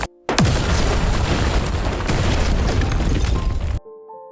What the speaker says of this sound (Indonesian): Setelah meledakkan dinding altar menggunakan dinamit